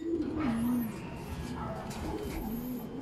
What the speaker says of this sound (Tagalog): O, magandang ibon to